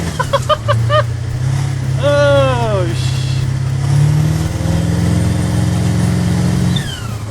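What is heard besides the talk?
turbocharged mini big rig truck accelerating, turbo whooshing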